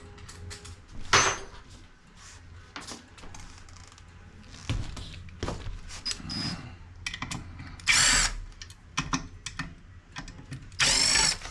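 A power tool works on the front wheel and fender of a Segway G2 scooter, giving several short whirring bursts separated by pauses, clicks and handling noises.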